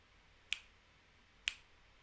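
Two sharp finger snaps about a second apart, close and crisp, standing alone against a quiet background.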